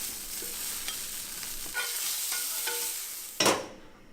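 Blistered tomatoes sizzle and spit in a hot frying pan as they are stirred, a steady close frying hiss with soft scraping strokes and a sharp louder clatter near the end.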